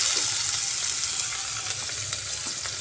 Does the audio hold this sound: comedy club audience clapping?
no